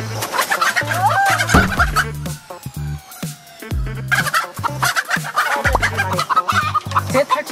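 Chickens in a coop near stacks of eggs, one chick newly hatched, cluck loudly and close in quick, repeated bursts, with a few sharper squawks and brief gaps between the calls.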